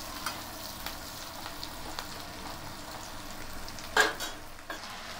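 Sliced onions with cumin seeds fry in an oiled pan, a steady close sizzle with occasional stirring scrapes and a sharper clink of utensil against the pan near the end.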